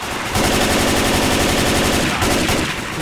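Heavy automatic gunfire in Left 4 Dead 2's Hard Rain campaign pours out as loud, sustained bursts, with a brief lull near the start and a slight drop midway before the firing resumes.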